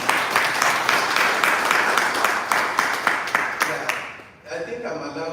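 An audience at an investment forum in Toronto applauds Tracy Murithi with a burst of dense clapping that fades out, followed by talking.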